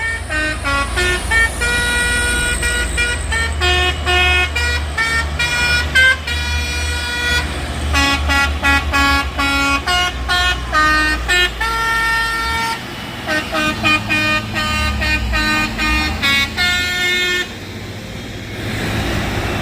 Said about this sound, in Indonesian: Ini truk tambang bosku melintasi Bukit Kodok.